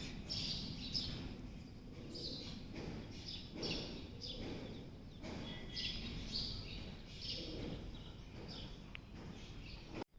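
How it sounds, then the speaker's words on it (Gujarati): Birds chirp and call repeatedly outdoors, short bright tweets coming in bursts over a quiet, soft background hiss. "જો પશુ પક્ષીઓનો અવાજ આવી રહ્યો છે."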